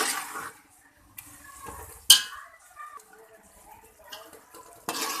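Chana dal roasts in a pot while a utensil stirs and scrapes through it in irregular bursts, with clinks against the metal, one sharp clack and a faint sizzle between strokes.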